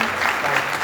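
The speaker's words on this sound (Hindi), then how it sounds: "रोहा और शहजाद की तालियां भी बजाएंगे।" Congregation clapping during a Sunday worship service, a short dense burst of applause filling the whole moment without a break, steady and fairly loud.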